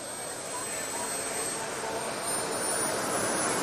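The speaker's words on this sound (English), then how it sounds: "Watch him as he gets ready to jet pop. Turns the afterburner on." A jet engine with afterburner on a jet-powered ATV quad racer roars in a dense, continuous loud blast that swells slightly toward the end.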